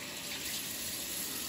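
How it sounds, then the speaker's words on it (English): Water runs from a tap into a sink during handwashing, a steady close splashing rush that holds unbroken throughout. "Use the towel to turn off the water."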